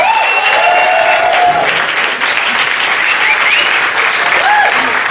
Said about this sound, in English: I want a nice round of applause for your bartender,